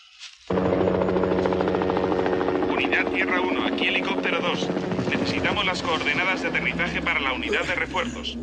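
A helicopter flying overhead bursts in after a moment of quiet and keeps up a loud, continuous rotor thump and whine, with voices and radio-like speech over it in the later part.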